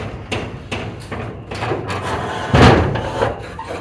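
A stuck bathroom door scrapes and thumps as it is forced and shoved open, several close wooden knocks and rubbing pushes building to a louder heavy thud.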